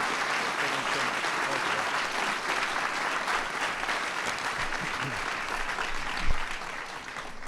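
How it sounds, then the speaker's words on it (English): A crowd at the White House applauds the San Francisco Giants with steady, dense clapping throughout, and a brief thump near the end. "Everybody give a big round of applause."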